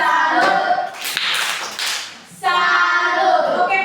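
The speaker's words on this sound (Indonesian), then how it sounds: "Oke, tepuk salut untuk kelompok 2." A classroom of students claps a rhythmic salute for a presenting group, bursts of hand claps mixed with chanted voices, pausing briefly mid-way before resuming strongly.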